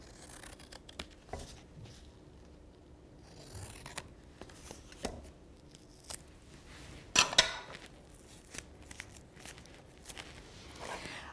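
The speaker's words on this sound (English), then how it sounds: "Now I'm going to take my scissors, and I'm just going to trim the corners of this book." Scissors trim the excess embossed paper at the corners of a covered book, with intermittent close snips, rustling and paper scraping spread across the span and one louder cluster of cuts midway.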